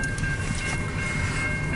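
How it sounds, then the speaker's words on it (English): A long CN local freight train rolls steadily past nearby, a dense continuous rumble of wheels and rail noise with a faint tonal whine, no voices. "It's a long train."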